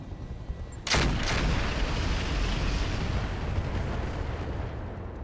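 Long-range missiles launch at cavalry helicopters in the RogueTech mod of the BattleTech game, one sudden loud blast followed by a sustained roaring rumble that carries on alone to the end.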